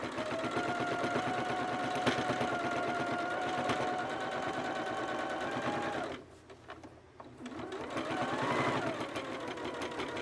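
A sewing machine stitches a quilted, self-binding table cloth with a steady, close, rapid mechanical whir, briefly stopping partway before starting up again, with no talking.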